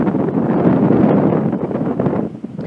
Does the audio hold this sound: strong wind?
yes